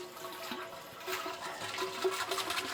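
Water sloshes and swirls around inside a beer keg during a rinse, a fairly close, irregular liquid splashing and gurgling that rises and falls with no voices.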